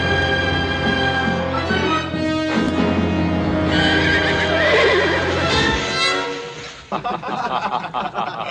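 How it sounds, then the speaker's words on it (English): A horse in a 1959 Western film neighs loudly and close, a long shrill whinny that trails into snorting, with a clatter of movement near the end. "That good fast horse."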